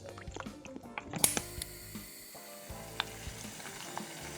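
Chopped onion dropped into hot vegetable oil in a small saucepan, giving a soft, steady sizzle and crackle with a sharper burst as it goes in, then stirring sounds close by.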